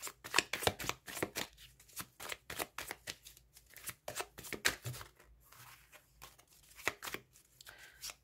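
Tarot cards handled on a table, a rapid series of crisp slaps and brisk shuffling rustles as one card is laid over another, close and fairly quiet with no talking.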